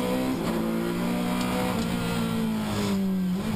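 A red Ferrari leading a GT Cup race passes at Brands Hatch in difficult conditions, a loud sustained engine drone with shifting pitch heard at trackside with no talking over it.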